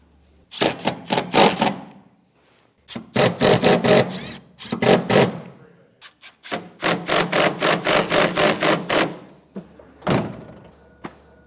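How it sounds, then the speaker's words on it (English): Screws driven by a power drill to mount a DeeZee universal tailgate mat on a 2015 Chevrolet truck, repeated bursts of buzzy ratcheting whirring separated by short pauses, close and loud without talk. "we can put the rest of our screws in"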